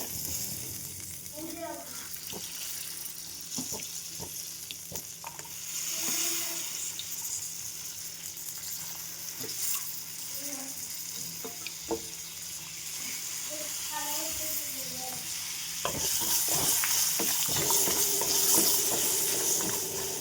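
Shallots sizzle in a pan with peanuts, a soft continuous frying hiss with scattered pops and crackles, growing slightly louder toward the end, while faint background noises come and go.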